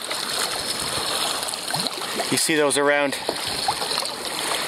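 A kayak paddles on the sheltered lagoon at Ontario Place in Toronto on a windy day, with soft continuous water wash and small splashes; someone speaks briefly midway over the steady wind and water.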